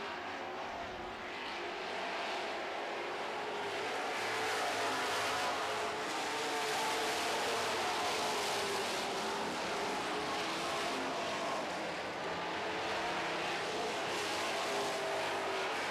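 Super stock race cars circle a track in a feature race, a steady continuous roar of several engines heard from a distance with no talk over it.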